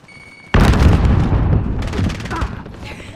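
Frag grenade blast in Call of Duty: Modern Warfare, a sudden loud boom that rolls into sustained rumbling debris and distant gunfire, with a voice speaking briefly underneath.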